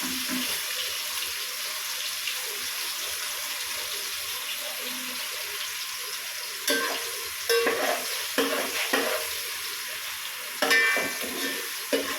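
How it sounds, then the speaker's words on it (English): Chopped chilies fry in oil with a steady sizzle that hisses throughout, with a few clinks and stirring knocks near the end; no voices. "let it sizzle and let the chili seeds pop"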